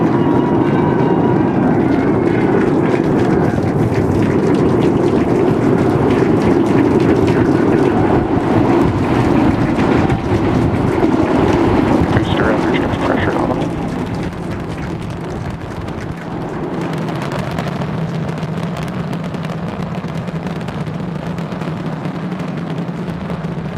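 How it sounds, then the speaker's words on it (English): A SpaceX Starship Super Heavy rocket launches on its eighth flight with 33 Raptor engines firing, a loud, distant, continuous roar and crackle that holds for a while, then drops to a lower, softer rumble. "We are seeing 33 out of 33 Raptor engines ignited."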